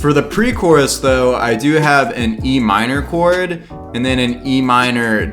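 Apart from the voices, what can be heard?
None of the usual background noises is heard.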